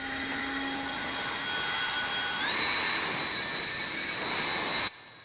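Ryobi 40V brushless cordless Whisper Series 600 CFM leaf blower running on max to clear debris off gravel, a loud steady whooshing roar with a whine that rises in pitch partway through, then cutting off abruptly near the end.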